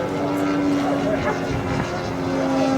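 An aerobatic propeller airplane at an air show, a sustained droning engine note that stays fairly steady, heard from a distance with a commentator speaking over it.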